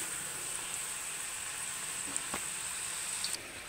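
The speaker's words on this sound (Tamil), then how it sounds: "இந்த உருளைக்கிழங்கை நல்லா இப்படி பறக்கி விடுங்க, நல்லா கோல்டன் கலர் மாறி வரட்டும்" Potatoes with fennel seeds frying in a pan make a soft, even hiss throughout, with only a couple of faint stirring clicks.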